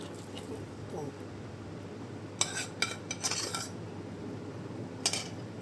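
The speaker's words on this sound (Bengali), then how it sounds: "এটা আমি এখন খুব ভালো করে মাখিয়ে নিব।" Donut dough being mixed by hand with butter and sour yogurt in a home kitchen, soft squishy kneading under a low background hum, with several sharp utensil clinks against the bowl midway and near the end.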